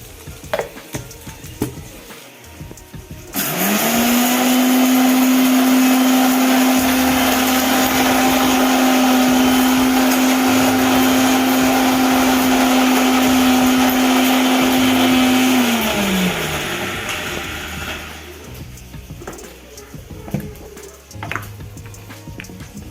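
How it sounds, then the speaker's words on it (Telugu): A mixer grinder blending garlic and chili masala starts abruptly with a loud, steady whine, runs for about twelve seconds, then winds down and stops, leaving quieter kitchen sounds at the start and end. "ఇక్కడ మిక్సీ పట్టుకుందాము"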